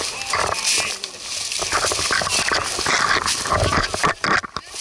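A dog moves about close by, its panting, scuffling and soft vocal noises are loud and busy, with an outdoor bustle throughout.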